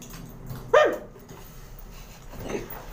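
A traumatized shih tzu that bites gives one sharp bark followed by a fainter whimpering yelp a couple of seconds later, in a quiet room with low speech nearby.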